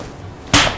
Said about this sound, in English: This is the sound of a disc being broken in half.